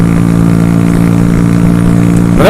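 A motorcycle engine runs at full throttle, loud and close with a steady sustained drone and a slight rise at the very end, no voices.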